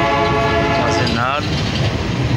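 A passenger train runs on rails in Rio Largo, a loud, steady rumble and rattle of wheels and carriages heard from on board, with a brief tonal horn-like sweep partway through.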